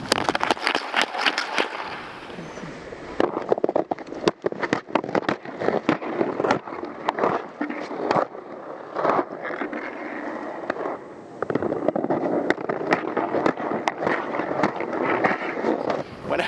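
Ice hockey skates carving crossovers and explosive forward strides on a rink, a dense run of sharp scraping cuts and crunchy ice spray at close range, steady and loud with brief pauses between bursts.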